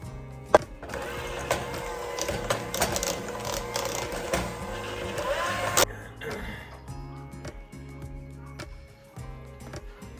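Electric hand mixer whipping mashed potatoes in a home kitchen, a steady whirring drone for about six seconds that then cuts off, leaving faint background sounds and quiet talk.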